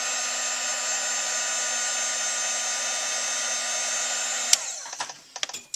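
A heat tool blows steadily at close range while it sets glitter on a stamped image. It makes an even, loud whirring hiss that cuts off abruptly, and a few light taps and handling noises follow.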